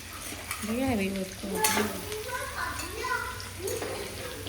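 A drumstick (sargva) curry with masala is stirred in a pan, soft scraping and a gentle sizzle running underneath a voice that talks over most of it.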